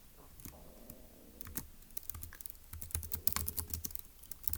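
Typing on a computer keyboard, light irregular key clicks that start sparse and speed up into a quick close-up burst, no voices.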